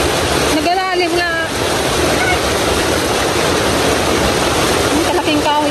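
Floodwater pouring down from a mountain during a typhoon, a loud, constant rushing roar close by, with people talking over it.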